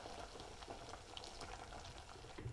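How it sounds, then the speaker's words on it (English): Tofu bubbling steadily in a pot of hot water, a soft continuous simmer with faint bubbling pops, heard alone without talk. "So what we can do is here is boil the tofu"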